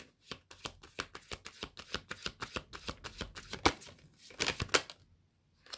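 Tarot cards are shuffled in a quick run of crisp, riffling slaps, up close, with a pause and a final burst before quiet.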